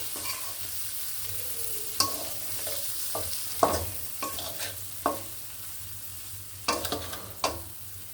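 Hilsa fish pieces fry lightly in a pan for a cucumber and hilsa dish. A soft steady sizzle is broken by sharp, irregular spatula scrapes and knocks against the pan, close by, with no talking.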